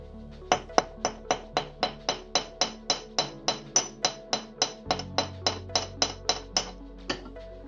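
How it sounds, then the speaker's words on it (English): A metal hammer strikes wire being shaped for a wire-wrapped pendant, tapping about twenty times in a steady, evenly spaced rhythm with bright metallic rings, close and alone. "what I'll do now is I'll just hammer this"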